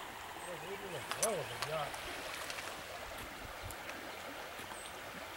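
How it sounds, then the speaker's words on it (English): Broad River flowing below Hickory Grove, South Carolina, a steady low wash of moving water filling the whole stretch, with a voice talking briefly near the start over it. "The beautiful Broad River."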